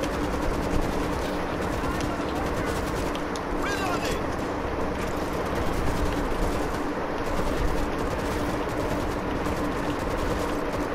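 Continuous machine-gun fire rattles through a World War Z zombie-shooter battle while a player defends a house against zombie hordes, a dense, unbroken stream of shots under a talking voice.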